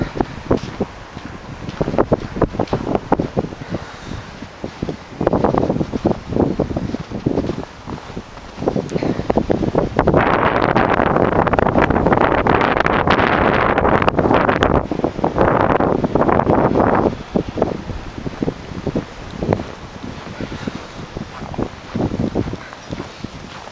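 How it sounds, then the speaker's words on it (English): Strong gusts in a December 2008 snowstorm batter the microphone in loud, uneven bursts of roaring wind, building to a sustained blast midway before settling back into rough gusting. "It's blowing and snowing and blowing."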